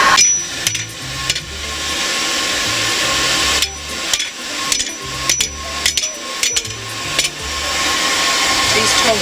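Metal is forged on an anvil, with a run of sharp, ringing hammer strikes in irregular bursts. They sound loud and close over a constant roar from the forge, and there is no talk.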